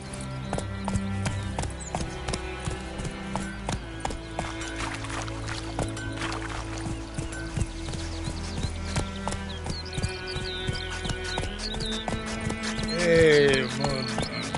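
Galloping horse hooves in The Witcher 3: Wild Hunt, a steady clip-clop rhythm running throughout beneath game music, with a voice talking briefly.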